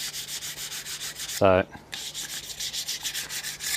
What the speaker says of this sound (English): So I'm just sanding on it, and I want to go with the grain on this one if I can.